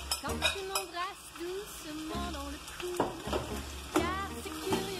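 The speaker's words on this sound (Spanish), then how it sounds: "Ahora sí, va a ser momento de agregarle nuestra cebolla." Onion stirred into melted butter in a pan for onion soup, a soft sizzle with clinks of utensils against the pot, while a person talks over much of it.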